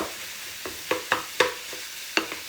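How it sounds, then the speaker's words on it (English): Ground turkey sizzling in a hot pan under a steady hiss, with several sharp scraping taps as a spatula breaks it up. "You can hear it sizzling, it's nice and hot."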